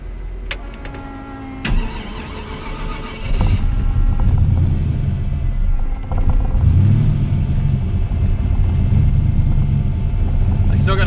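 A boosted Ford Mustang engine with a raised rev limiter starts with a few sharp clicks and bangs, then settles into a loud, rough, steady idle close by, with a brief dip and swell partway through.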